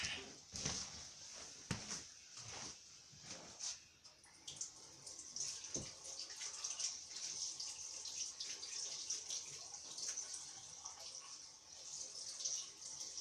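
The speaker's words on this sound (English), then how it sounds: "Washing my hands." Tap water runs into a kitchen sink while hands are washed, a soft continuous splashing at moderate distance with a few clunks and knocks early on.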